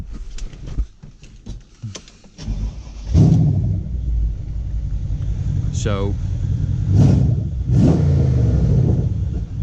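A short voice, clicks and a starter crank, then the 1200-horsepower V8 of a Mercedes C63 AMG Black Series fires up with a deep rumble and several loud, rising revs.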